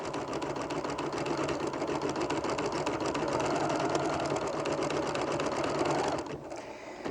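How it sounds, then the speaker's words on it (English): A computerized embroidery sewing machine stitches out a flower-bud design, a steady, fast mechanical whir with rapid needle strikes running loud and continuous, then it stops near the end and only quieter machine noise is left. "it just sews all by itself. I think we have about one more little bud for this to stitch out"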